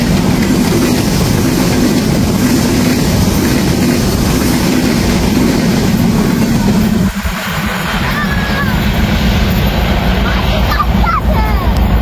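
A train passes close by, giving a loud, continuous rumble and rattle that fills the whole stretch, with people talking faintly beneath it.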